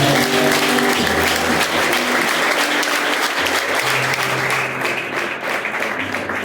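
Church congregation applauding loudly and steadily throughout, a dense wash of clapping at a worship conference with faint musical tones underneath.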